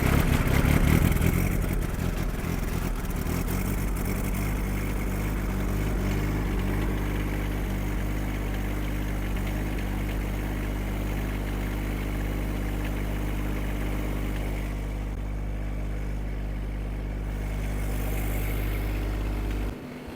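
A Chinese diesel excavator engine turns over after its glow plugs warm, then settles into a steady, close, low idle that runs alone for about twenty seconds before cutting off at the end.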